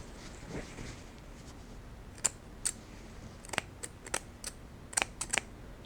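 Big red curved texturizing shears snipping hair after sharpening, a series of small crisp clicks and snips, some in quick pairs, faint and close with no talking.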